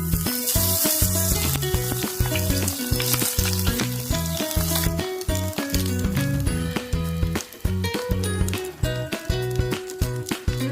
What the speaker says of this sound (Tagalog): kailangan lang nating prituhin ang tokwa at talong